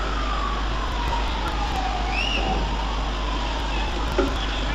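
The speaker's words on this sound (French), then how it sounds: "Des sirènes d'ailleurs." Distant sirens wail with slowly sweeping pitch beneath constant broadband noise like wind or traffic, fairly faint throughout, as a violent thunderstorm approaches in Austin, Texas.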